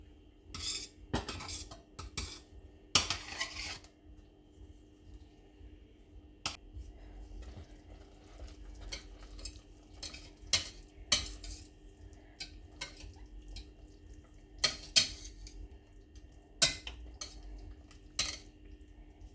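Spinach added to a pan and stirred in, heard as scattered quiet clinks and scrapes of a utensil against cookware with brief rustles over a low background, no talk.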